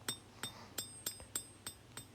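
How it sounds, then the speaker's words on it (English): Hammer blows on steel over an anvil while forging the bevels of a knife blade, seven sharp ringing strikes at a steady rhythm, close and clear with no talk. "now while I'm hammering in the bevels"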